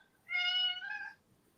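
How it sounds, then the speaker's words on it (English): A single clear, close meow from a house cat, drawn out for about a second in an otherwise quiet room. "That's my cat."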